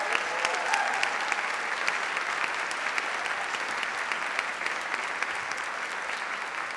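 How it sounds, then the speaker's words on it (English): An audience at a live speaking event gives a long round of steady applause for the speakers, dense even clapping that holds at a level for the whole stretch with no talk over it. "Please, one more round of applause for every speaker."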